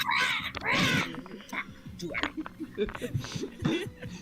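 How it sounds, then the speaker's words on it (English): A pet bird squawks in short, harsh bursts in the background while several people talk over it around a tabletop game. "you just hear Ramsley squawking in the background"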